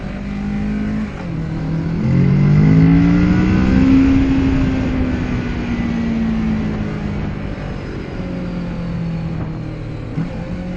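A motorcycle engine braking on a road at night, a loud rising then slowly falling drone as the revs wind down, steady wind rush behind it.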